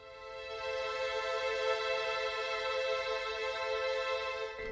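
A minor chord held on a keyboard playing an orchestral sample template in Reaper, swelling in softly and sustaining evenly as a rich, steady tone that cuts off near the end, with no talking.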